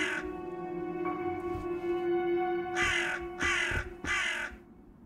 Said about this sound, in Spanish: Los cuervos.